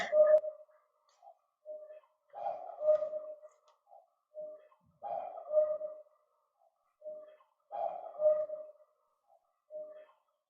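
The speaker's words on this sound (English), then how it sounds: "I think we'll have to wait for 4 more cuckoos and then we'll be good to go." Cuckoo clock calling during a Toastmasters gavel championship event, repeated two-note cuckoo calls in a steady rhythm, moderately loud and clear in an otherwise quiet room.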